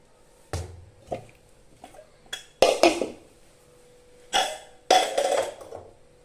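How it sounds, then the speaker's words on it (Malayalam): Lentils (dal) being washed in a metal pot in a home kitchen before sambar is cooked bring intermittent clanks, knocks and scrapes of metal, in short bursts separated by quiet pauses. "അപ്പം നമ്മൾ പരിപ്പ് കൊണ്ടുവന്നു, കുക്കർ കൊണ്ടുവന്നു, പരിപ്പ് കഴുകി കൊണ്ടിരട്ടെ"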